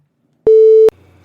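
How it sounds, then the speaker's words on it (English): A phone gives off a single steady electronic tone, loud and clean, lasting under half a second before cutting off into a low hum. "That's my phone going off."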